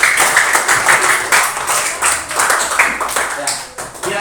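Classroom students clap in a lively burst of uneven hand claps that rise and fall across several seconds, close and fairly loud, with voices mixed in.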